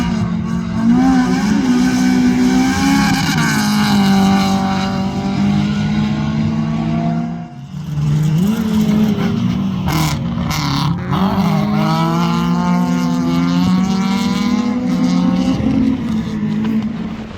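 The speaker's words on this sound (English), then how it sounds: "And Ian Larissy was giving our GoPro the ride of its life in the fantastic Rothmans Manta 400" Rothmans Manta 400 rally car on a stage at Pallas Karting, Galway, heard from on board as a loud engine rising and falling through the gears, with a brief dip mid-run before revving hard again.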